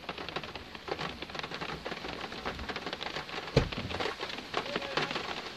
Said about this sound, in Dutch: Het gaat inmiddels hard regenen